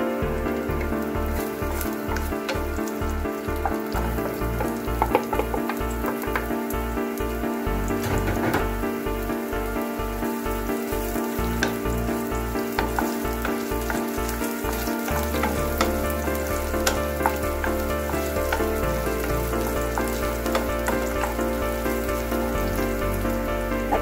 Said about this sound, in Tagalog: naglagay po tayo ulit ng mantika upang igisa ang ating sibuyas at bawang